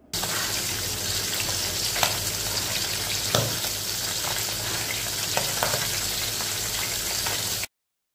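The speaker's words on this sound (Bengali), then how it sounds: "প্রথমে মাছগুলো হালকাভাবে ভেজে নেব।" Pieces of ghaura fish fry in a pan over medium heat, giving a loud, dense, unbroken crackling sizzle that holds steady for several seconds before stopping abruptly, with no voices.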